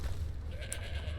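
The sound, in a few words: goat bleating in a video game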